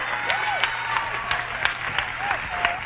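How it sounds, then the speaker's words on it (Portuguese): A church congregation claps together during a sermon, a steady wash of many hands with sharper individual claps popping out, at moderate level with brief vocal cheers over it. "Aplauda e louve a Deus."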